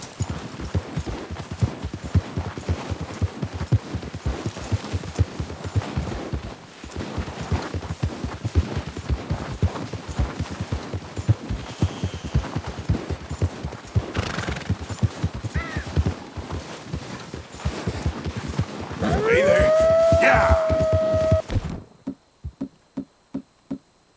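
Hooves of a galloping horse in Red Dead Redemption 2 pound in a fast, steady clip-clop for about twenty seconds before the horse lets out a loud, drawn-out neigh, then a few slowing hoofbeats as it comes to a stop.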